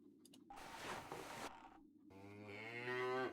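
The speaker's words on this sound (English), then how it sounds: "do I hit the cow?" A cow moos in the point-and-click adventure game The Whispered World, a long, loud bellowing low from a farm animal that stands alone with no talk over it.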